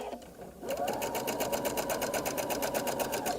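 A sewing machine runs at a fast, even pace while stitching a shirred top, starting after a brief pause and then holding a steady, close mechanical whir to the end.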